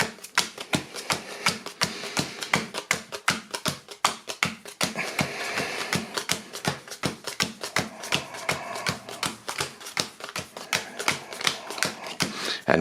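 Cards for The Fellowship of the Ring trick-taking game are shuffled and dealt, giving a rapid, steady run of close, crisp taps and snaps as each card lands, continuing without pause.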